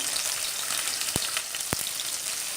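Bay leaf, whole garam masala and onion fry in hot oil in a pan for a potato tahiri, giving a dense, even sizzle up close with a couple of sharp pops.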